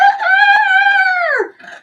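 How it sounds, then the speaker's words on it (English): A rooster crows loudly and close by, one long harmonic cock-a-doodle-doo that rises, holds and falls away, followed by a faint trailing note. "They have a rooster"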